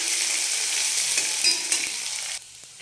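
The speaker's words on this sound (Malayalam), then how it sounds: "പിന്നെ ചെറിയ ഉള്ളിയും പച്ചമുളകുമാണ് ചേർത്തിരിക്കുന്നത്. ഒന്ന് നന്നായിട്ട് വഴന്ന് വരുമ്പോൾ" Shallots and green chilies sautéing in a pan for upma, a loud, bright, continuous sizzle close by that drops off abruptly near the end, with no talking.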